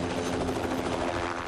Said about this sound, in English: Helicopters pick up packages of instruments known as spiders from the parking lot at Johnston Ridge Observatory